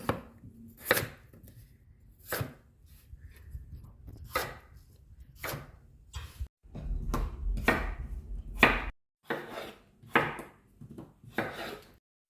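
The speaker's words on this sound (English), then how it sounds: "Quarter 8 potatoes." Knife chopping through potatoes on a board to quarter them for slow-cooked lamb shanks, a series of sharp, close, loud thuds at an irregular rhythm with no voices.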